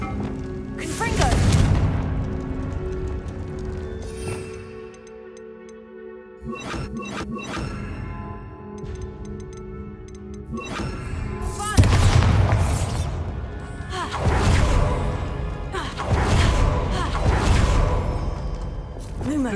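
Confringo spell blasts in Hogwarts Legacy on Xbox Series X boom and crash repeatedly, with several heavy explosive bursts and shattering debris spread through a busy game mix. A voice speaks the spell names.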